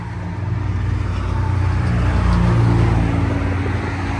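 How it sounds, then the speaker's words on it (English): Rolls-Royce Ghost fitted with a Kriesag aftermarket exhaust, its engine rumbling low and steady and swelling slightly as it revs, heard close with a broad wash of background noise and no talk. "This has a Kriesag exhaust."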